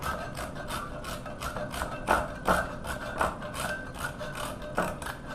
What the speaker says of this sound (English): a dash of nutmeg. So I'm just going to grate it here